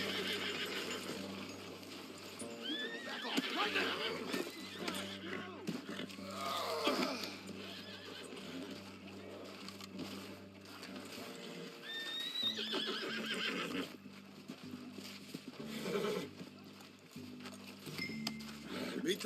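Horses neigh and whinny repeatedly in Red Dead Redemption 2 amid hoof clatter and rustling, with a voice talking briefly in between.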